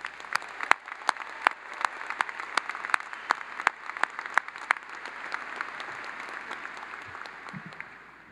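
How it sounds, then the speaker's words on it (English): Graduates and guests at a Clemson University spring undergraduate graduation ceremony give a sustained round of applause, with dense clapping and sharp individual claps standing out, steady throughout before thinning slightly near the end. "I think you all deserve a very loud round of applause."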